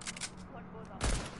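Unsuppressed AK rifle fire in an arena video game: a few rapid shots early, then one sharp, loud shot near the end, heard under ongoing talking.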